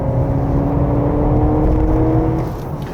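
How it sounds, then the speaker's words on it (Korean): The engine of a 2025 sixth-generation Honda CR-V Hybrid 4WD runs hard under full throttle on a winding road, a steady loud drone with a rising pitch that eases off near the end. "지금 엔진은 열심히 돌면서"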